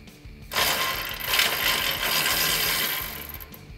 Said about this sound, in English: So here's our inside one that we can take off first using our 10 millimeter socket.